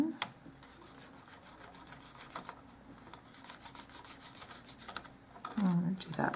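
Quiet, soft rubbing strokes as stain is worked into a wooden porch sign with a cotton swab, repeated close up at a gentle, uneven rhythm.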